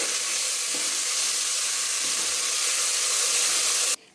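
Toor dal with turmeric fries in a hot pan, a steady, loud sizzle and hiss with faint stirring scrapes, continuing evenly until it cuts off abruptly near the end.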